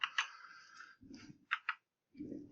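Quiet computer mouse clicks sound while imported objects are placed in SketchUp, a few sharp close clicks spaced irregularly with short soft shuffles between.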